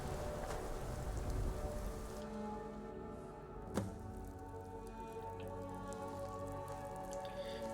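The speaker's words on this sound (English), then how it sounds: "even with this rain" Rain falls steadily in the video game Skyrim as a constant, fairly faint hiss with dripping. A single sharp crack or thud stands out partway through.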